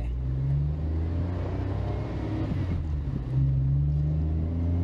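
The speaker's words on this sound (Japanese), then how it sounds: "ぐーっとアクセル踏みっぱで伸ばしてやってシフト転移するっていうのは結構気持ちいいですね" A Suzuki Alto HA36S engine holds steady revs with the throttle kept down, then pitch drops around three seconds in and climbs again, marking a gear shift. It is a continuous, close engine drone with no talk.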